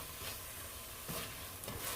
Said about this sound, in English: I'm just going to scrape any fond at the bottom of the pan and saute these vegetables